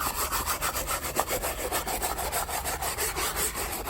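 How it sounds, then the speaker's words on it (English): A hand brush scrubs a floor mat in a cross-hatch pattern, giving a steady run of loud, close, rasping strokes in quick rhythm with no talking. "I'll just scrub away, and I'll do it in a cross-hatch pattern"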